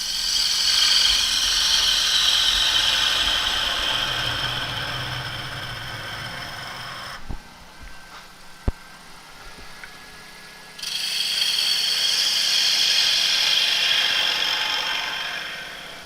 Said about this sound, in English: Speed the lathe up a little bit.